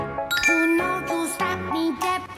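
A bright notification bell sound effect rings out as a quick run of clear, tinkling dings in a short melodic pattern, loud and alone.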